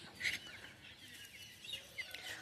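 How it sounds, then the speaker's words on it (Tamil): Chickens pecking at grass on a farm let out a few soft clucks, faint and distant over a low, steady background hiss. "இந்த கோழிகள்லாம் சாப்பிட்டுட்ருக்குங்க"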